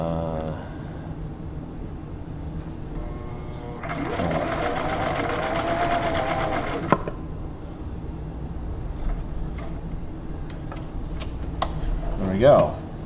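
A Viking 6360 sewing machine runs steadily for about three seconds stitching a blind hem, a dense mechanical whir with rapid needle ticking, followed by a few clicks and faint background talk.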